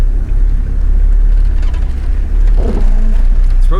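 A modified 4WD engine crawls uphill in first gear low range, a loud, steady low rumble close by with a slight rise in strain near the end, no speech.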